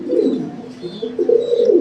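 A pair of yellow King pigeons in a cage give low, rolling coos that run almost continuously, close by and fairly loud, with no talk over them.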